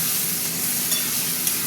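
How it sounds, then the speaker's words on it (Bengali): Spice paste of ginger-garlic, chili, turmeric, cumin and coriander sautés in mustard oil in a wok, making a loud, dense, continuous sizzle with soft stirring scrapes close by. "মশলাটা কষবো।"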